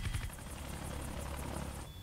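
Helicopter in the video game Metal Gear Solid: Twin Snakes, a steady, fairly faint rotor chop with a continuous droning hum throughout, heard alone without talk.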